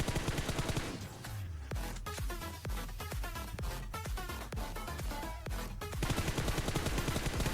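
Rapid bursts of gunfire from the mobile battle royale game PUBG Mobile crack sharply and repeatedly across the whole stretch, loud and dense, with gameplay music or ambience underneath and no talking.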